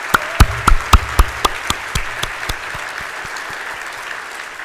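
Applause at a luncheon event, opening with a few loud, sharp individual claps close by and then fading into a lighter, steadier patter of clapping across the room.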